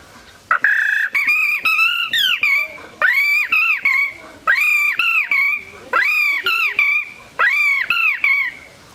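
A man imitates a Shama bird's song with his voice, producing five loud, close bursts of rapid whistled notes that swoop up and down, separated by short gaps.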